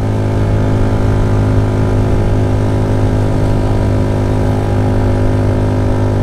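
Bajaj Rouser NS125 motorcycle engine held at full throttle on an uphill climb, a loud, constant buzzing drone with steady pitch throughout, close up and with no voices.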